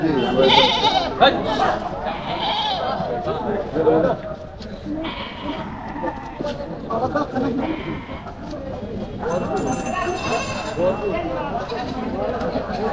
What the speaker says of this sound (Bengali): মোটামুটি বেশ ছাগল বকরির আমদানি হয়েছে